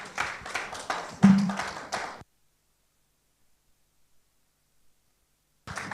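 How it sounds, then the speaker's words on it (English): A conference audience claps after a talk, a short burst of applause lasting about two seconds, then silence. "Even from the claps, I can tell that it was very impactful."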